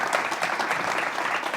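Short burst of warm applause from an audience at an honoree ceremony, dense, steady clapping throughout.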